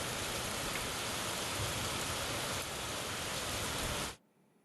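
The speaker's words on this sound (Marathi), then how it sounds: "परभणीमध्ये अनेक भागांमध्ये रिमझिम पाऊस सुरू झालेला होता" Light drizzling rain in Parbhani, a steady soft hiss of fine drops falling evenly for about four seconds before cutting off abruptly to near silence.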